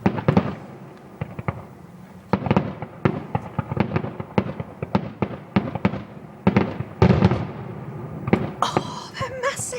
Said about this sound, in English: Of fireworks non-stop.